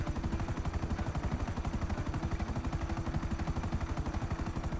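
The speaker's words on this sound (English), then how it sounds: "watch your ass, there's a guy in a chopper as well" Helicopter rotor thumping from a video game, a steady rapid chop close and loud, filling the whole moment without any talk over it.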